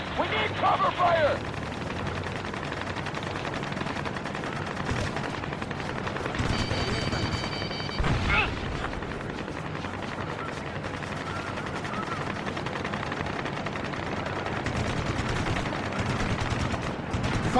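Gunfire from a military helicopter mission in Ace Combat: Assault Horizon crackles in rapid bursts over a steady rotor drone, with radio voices talking at times.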